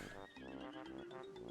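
A horse neighs in Zelda: Tears of the Kingdom, one clear, close whinny with a wavering pitch that rises and falls, heard alone.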